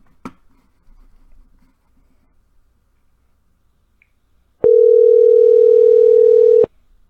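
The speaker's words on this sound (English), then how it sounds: "Dialing." Telephone dial tone, a steady loud single-pitch hum lasting about two seconds after a quiet stretch with faint handling noise, cutting off abruptly.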